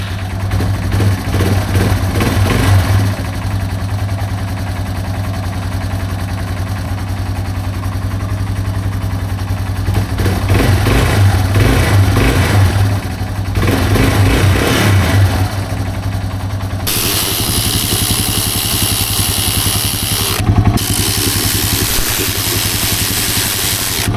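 A Yamaha TW200 motorcycle runs after a carburetor overhaul, its engine revving up and down in repeated bursts over a steady idle, then turning to a rougher, louder sound with a sharp hiss partway through, close by.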